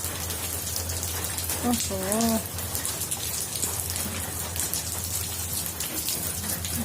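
Heavy rain pours down steadily in a dense, hissing wash, with a brief voice rising over it near the start.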